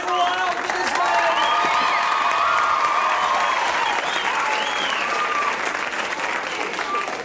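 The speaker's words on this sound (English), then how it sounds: "the crowd are on their feet. They're going wild for this man." A beach crowd at a surfing contest erupts in sustained cheering, whistling and applause as the winner comes in, loud and dense throughout, with voices shouting within the roar.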